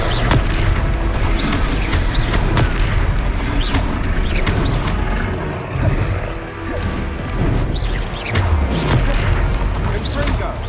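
Repeated Confringo fire-spell blasts in the video game Hogwarts Legacy, heavy booming impacts and crashes arriving one after another at a steady loud level, with voices shouting over the combat.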